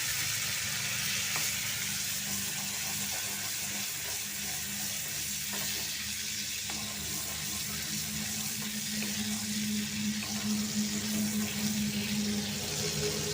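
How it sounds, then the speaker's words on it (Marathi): Butter melts and sizzles in a pressure cooker for pav bhaji, giving a steady, fairly loud frying hiss that runs unbroken throughout with no voices. "दोन चमचे मी बटर टाकणार आहे आता ते बटर चांगलं तापलं आहे चांगलं मेल्ट झालं"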